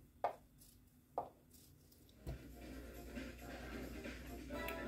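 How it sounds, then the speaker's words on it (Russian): A knife slices feijoa fruit on a board, with a few sharp separate cuts early on, then a softer continuous shuffling and rustle of handling fruit nearby. "Нарезала фейхоа."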